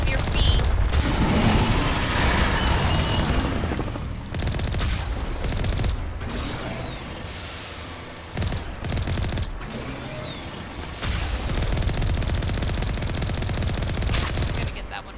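Heavy, sustained gunfire in the video game Mass Effect Legendary, loud rattling bursts with brief pauses between volleys over a dense rumbling background.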